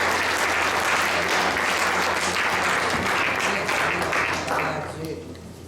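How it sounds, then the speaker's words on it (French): A church congregation at a Sunday service claps for the Lord in loud, dense, sustained applause that fills the room and tapers off in the last second. "Voulez-vous applaudir le Seigneur?"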